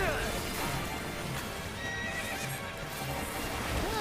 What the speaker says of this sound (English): Pretty horsey